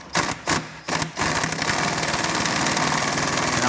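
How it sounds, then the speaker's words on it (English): An impact wrench bottoms out the clutch nut on a 1978 Vespa P200E engine during a rebuild: three short loud rattling bursts, then a continuous close hammering buzz. "Now I'm going to carefully use the impact to bottom out the clutch."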